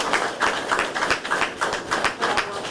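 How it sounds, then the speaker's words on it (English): Audience applause for Jackson Fire Department firefighters at a recognition event, steady dense clapping with irregular claps from a modest crowd, moderately loud and continuous throughout. "Please give them all a round of applause."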